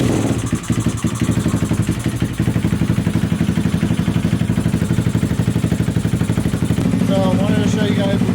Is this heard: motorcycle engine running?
yes